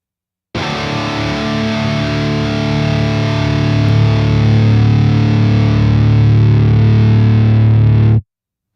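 One sustained, heavily distorted electric guitar chord rings loud and steady for several seconds, then cuts off cleanly as a multi-band noise gate closes, leaving silence.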